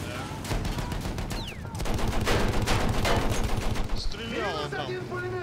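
A Maxim machine gun rattles in sustained bursts in Battlefield 1, loud and dense, with other battlefield noise and a whistling shell sweeping through the mix.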